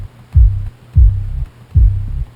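Sub bass crushed flat under heavy limiting in Ableton Live plays as three loud, deep, throbbing pulses with an even rhythm, each held for about a third of a second, with a quiet low hum between them.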